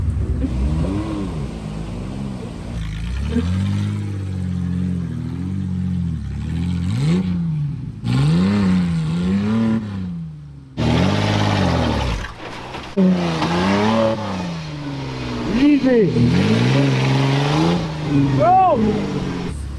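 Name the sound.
off-road vehicle engine revving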